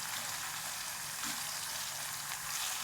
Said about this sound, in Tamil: இது வந்து நல்லா வதங்கி வருதுங்க. நல்லா தீவும் நல்லா வதங்குங்க.